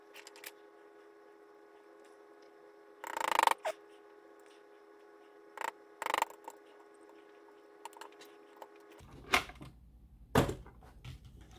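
Several sharp snips and clicks come from cutting a plastic model kit part for an Accurail 40ft ice car kit, spaced out over a quiet background hum.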